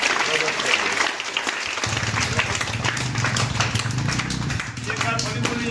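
A crowd at a Swaminarayan devotee gathering breaks into sustained applause to thank someone, dense and continuous clapping that swells and carries on, with voices mixed into the noise.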